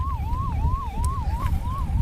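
Ambulance emergency siren in Kapasira village, Subarnapur district, wailing in a steady repeating up-down cycle with a rumbling vehicle underneath, loud and close.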